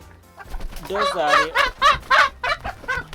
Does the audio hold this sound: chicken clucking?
yes